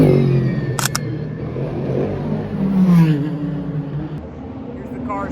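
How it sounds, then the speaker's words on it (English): Race cars at Detroit Grand Prix practice rush past on a street circuit, a rising engine whine sweeping by near the middle of the clip over a steady roar, with someone talking and camera shutter clicks early on. "Here's the cars going by."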